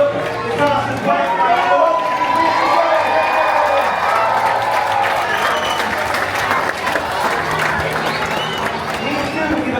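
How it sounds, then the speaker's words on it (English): An audience at a Disney cruise ship stage show with princesses applauding and cheering, continuous clapping with whoops and children's shouts, under a voice and music. "Let's give them a big round of applause as they now leave the stage."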